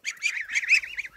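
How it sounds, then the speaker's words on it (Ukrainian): Geese honk repeatedly in quick succession, loud and close, a series of nasal calls with no other sound. "Ось такі гуси."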